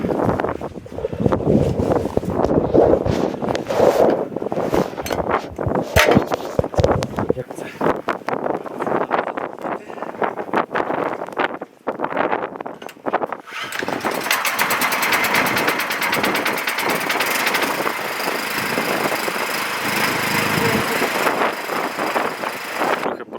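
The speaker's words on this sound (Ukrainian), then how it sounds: "відкриваю краник, перекриваю в карбюраторі воздух і пробую буркати" A MAX MXGG30 petrol generator is pull-started with the choke closed. Pulling and rattling come first, then the engine settles into a steady broadband running noise in the second half. A voice talks throughout.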